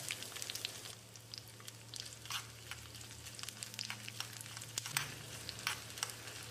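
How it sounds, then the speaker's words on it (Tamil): Steady crackling and popping of mustard seeds in hot oil, with dense bursts of spluttering and a low steady hum underneath; no talking. "கடுகு பொரிஞ்சிருச்சு."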